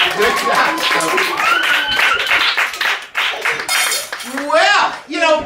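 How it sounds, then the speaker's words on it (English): Applause at a Hanukkah magic show, light clapping from a small audience heard under lively talk and children's excited voices, with a few bright clinks mixed in. "let's give Toby a nice round of applause for squeezing in the bucket"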